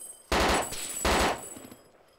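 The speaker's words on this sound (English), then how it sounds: "I'm shooting as well. Keep firing." Two loud, close bursts of rapid automatic gunfire in the video game DayZ Overpoch, each lasting about half a second with a brief gap between them.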